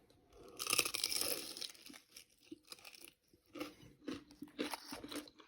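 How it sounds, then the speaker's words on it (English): Loud, close crunching bites and chewing of a crunchy egg roll come in several crisp bursts with short pauses between them, with no talking. "Listen how crunchy."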